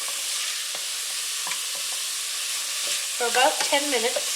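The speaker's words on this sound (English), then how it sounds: "So we're going to saute these" Chopped carrots and celery sautéing in a pot for cheeseburger soup, a steady bright sizzle with occasional stirring scrapes, while someone talks over it toward the end.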